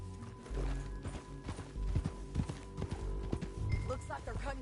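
Hooves of a galloping horse in Red Dead Redemption 2 clop in a quick, uneven rhythm alongside mechanical clicking, with a brief whinny near the end and faint talk underneath.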